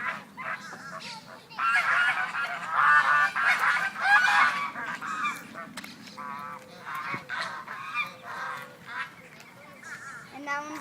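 Geese or ducks honk repeatedly in Florida, loud and close, in bursts of harsh calls that rise and fall across the stretch, with no clear speech.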